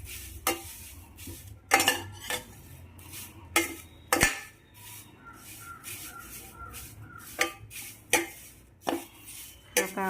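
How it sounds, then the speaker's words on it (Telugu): Curry leaves frying in oil in a pan, a low sizzle under repeated sharp clinks and scrapes of a spoon stirring against the metal at an irregular pace. "ఇప్పుడు ముందుగా ఉంచుకున్న కరివేపాకులు కూడా ఆయిల్లోనే ఫ్రై చేసుకోవాలి"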